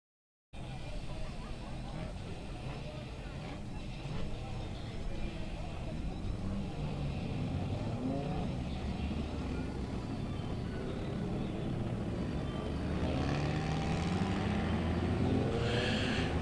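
HRW Automotive Mini Stocks race cars roar around the track at night for the first qualifying heat: a steady, loud engine drone that swells and grows busier toward the end, with a voice faintly underneath.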